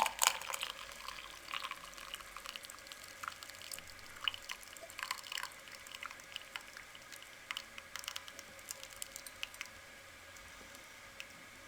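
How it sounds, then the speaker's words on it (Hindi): Boiled kahwa poured through a strainer into a cup: a soft, steady trickle of liquid with faint drips and splashes, quiet and close, with no talking. "अब इस कहवे को हम चाय पानी के साथ छान लेंगे।"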